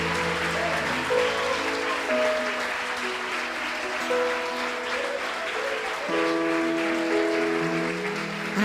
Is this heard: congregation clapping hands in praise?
yes